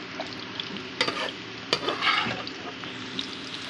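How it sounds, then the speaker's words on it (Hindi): Bitter gourd (karela) slices frying in a pan for chana dal karela, with a steady soft sizzle and a few brief stirring and scraping knocks, heard alone at close range. "करेले अच्छे तरीके से फ्राई हो चुके हैं।"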